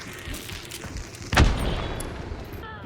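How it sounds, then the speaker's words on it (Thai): Explosion in the video game Hunt: Showdown, a single sharp, heavy blast midway through that booms and then tails off, set against quieter in-game background noise. "ระเบิด"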